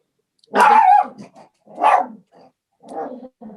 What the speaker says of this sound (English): He barks at everything.